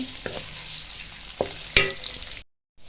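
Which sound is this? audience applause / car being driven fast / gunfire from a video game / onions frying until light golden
onions frying until light golden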